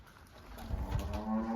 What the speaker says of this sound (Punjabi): ਇਹਨਾਂ ਦੀ ਮੈਚ ਰੰਭੀ ਜਾਂਦੀ ਹੈ